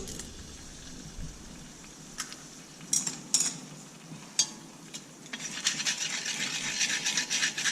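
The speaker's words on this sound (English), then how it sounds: "Now I'm going to add an egg, make it a little bit scrambled." An egg is scrambled in a pan after chicken and vegetables are stir-fried with vermicelli: sharp utensil clinks and scrapes against metal come first, then a steady sizzle with quick repeated stirring scrapes swells up near the end.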